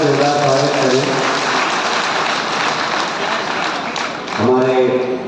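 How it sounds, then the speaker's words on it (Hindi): An audience at a party workers' convention in Ambala applauds loudly to welcome Nayab Saini, steady dense clapping filling the space as a voice speaks at the start and again near the end. "नायब सैनी जी को जरा तालियां बजाकर जोरदार स्वागत करें"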